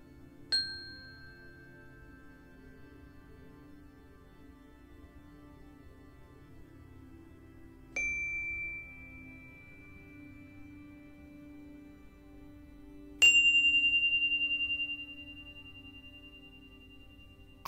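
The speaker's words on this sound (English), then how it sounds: "you'll be hearing 3 tones from the chime" Three separate chime strikes ring out about five seconds apart in a quiet room, each a clear bright tone that slowly fades, the last one louder than the first two.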